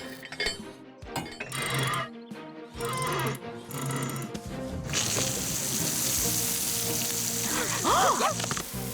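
In a cartoon, a fire hose fitted to a hydrant lets loose a steady roaring gush of water that takes over after a few seconds of clanking and music-like sounds.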